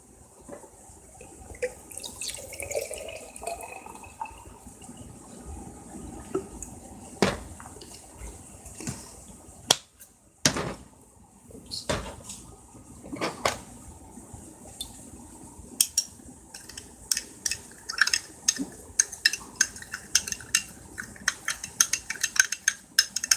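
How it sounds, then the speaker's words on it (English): Ration drink powder being mixed with water in a container: sloshing liquid with sharp clinks and taps of a utensil, intermittent at first and then growing into a busy run of knocks, close and without talk. "I'm going to go ahead and mix this one up"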